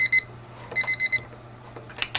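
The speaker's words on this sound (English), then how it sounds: "timer went off." A kitchen timer alarm beeps in short repeated electronic bursts, fairly loud and close, followed by a couple of sharper clicks or knocks, with a steady low hum underneath while noodles are being cooked.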